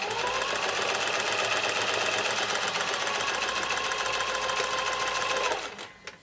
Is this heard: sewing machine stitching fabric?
yes